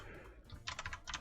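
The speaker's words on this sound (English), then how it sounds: "say I wanted to start typing a document" Typing on a Red Dragon computer keyboard, a close, quick run of crisp key clicks in two short bursts after a brief muffled lead-in.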